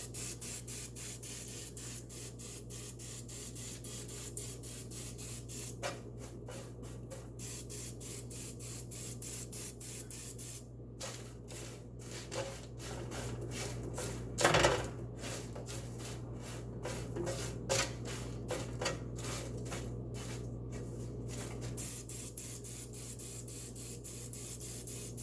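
Croutons coated in avocado oil are shuffled around in a bowl, making a quiet, continuous rustling and light clicking with a faint steady hum underneath and no talking.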